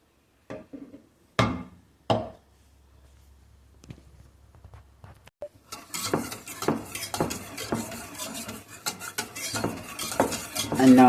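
Plantain puree whisked in a pot, a few sharp metal clinks at first, then after a pause a dense, continuous scraping and clattering of the whisk against the pot that grows louder toward the end.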